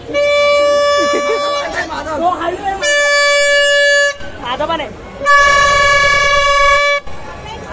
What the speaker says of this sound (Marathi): एकट्याच्या भोंग्याला आवाज नाही